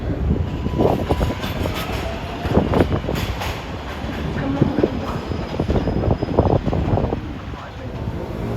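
A westbound NYC 7 line subway train passes on a curve near the Corona Yard switches, a loud continuous rumble with clickety-clack of wheels over rail joints and wind noise, sustained throughout.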